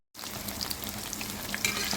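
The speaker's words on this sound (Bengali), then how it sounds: "চিকেন ফ্রাই ভাজা হচ্ছে সবার জন্য" Chicken deep frying in oil gives off a soft, steady crackling sizzle close by, with no one talking.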